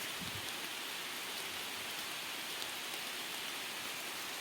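Steady rain falls in a dense, even hiss, close and continuous, with no voices.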